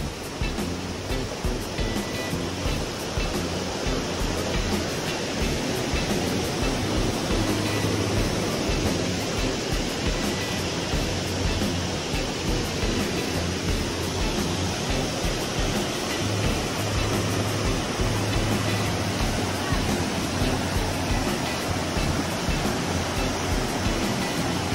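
Waterfall at Poço do Tarzan in Paraty, Brazil: a loud, steady, unbroken roar of falling water fills the whole stretch, close and constant with no voices.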